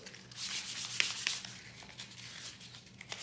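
Wood being rubbed with sandpaper for a rustic painted American flag craft, a steady soft scratchy rasp with a couple of small clicks, fairly quiet and close, with no talking.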